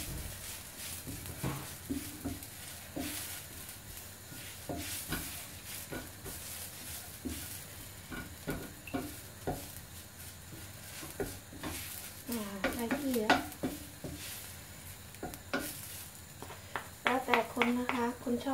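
Garlic fries in oil in a pan with a soft, quiet sizzle, broken by a regular rhythm of spatula scrapes and taps against the pan, and a voice speaks briefly near the end.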